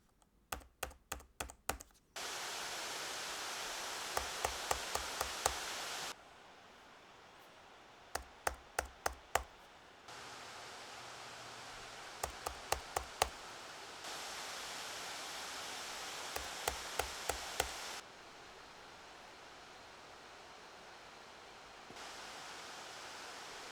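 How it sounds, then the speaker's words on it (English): A Gigabyte Aorus 17X gaming laptop with an Nvidia RTX 4090 runs its cooling fans under load, giving a steady broadband whoosh that steps up and down in level across several load settings, interrupted by bursts of quick keyboard clicks. "To give you guys a more subjective impression of fan noise for this one"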